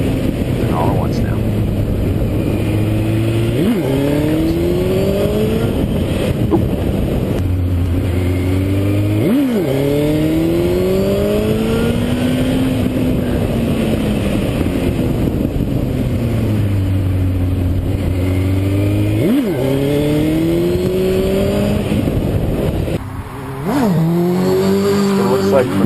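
A sport motorcycle engine revs up and down in repeated rising and falling sweeps as the rider wheelies and eases off the throttle, loud and close under steady wind noise, with someone talking over it.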